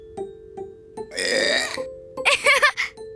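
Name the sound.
cartoon character burping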